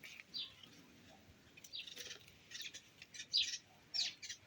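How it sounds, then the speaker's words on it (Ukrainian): Sparrows and starlings chirping around a cherry tree with ripe cherries, scattered faint high tweets at a moderate distance in a quiet outdoor setting, no talking. "Горобці пасуться тут і шпаки."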